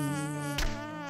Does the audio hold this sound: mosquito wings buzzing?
yes